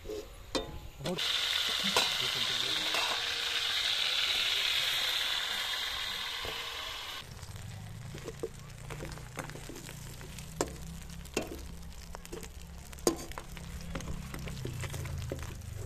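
Loud, steady sizzle of crab frying in a pan fills the first seven seconds, then fades to a low simmering hiss with scattered clicks and scraping sounds.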